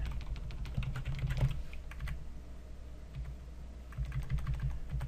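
Keystrokes on a computer keyboard clatter steadily at close range over a low steady hum, with irregular bursts of typing and short pauses.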